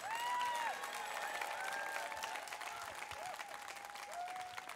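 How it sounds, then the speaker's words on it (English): Crowd applause at a town hall, steady clapping from a large audience sustained throughout, with some tonal background sounds running over it. "give her a big round of applause"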